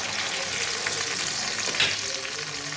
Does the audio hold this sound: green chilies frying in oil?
yes